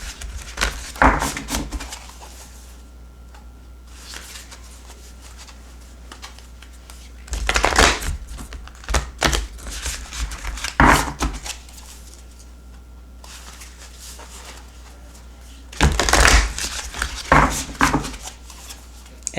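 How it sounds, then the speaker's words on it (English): A tarot card deck is shuffled in several separate bouts of riffling and rubbing, each a few seconds long, with quieter handling between them. "It's not easy to shuffle at all."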